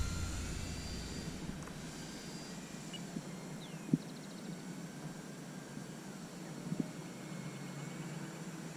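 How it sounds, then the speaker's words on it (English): An Air Tractor utility plane, a small propeller aircraft, drones steadily at a distance, a faint, even engine hum with a couple of soft clicks nearby. "I know she's an air tractor, a utility plane"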